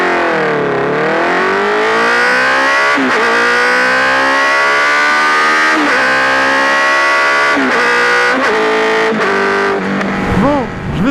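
A 2020 Honda CB 650 R A2 motorcycle engine revs hard through the gears, its rising whine repeatedly climbing and dropping between shifts, loud and close, with a final blip and fade at the end.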